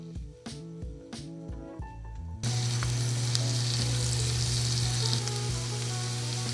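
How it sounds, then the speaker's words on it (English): Minced garlic sautés in olive oil and butter, a bright steady sizzle that breaks in suddenly after a short stretch of background music and then carries on alone and close, with music still underneath. "you're going to add some minced garlic and saute for 1 minute until it's fragrant"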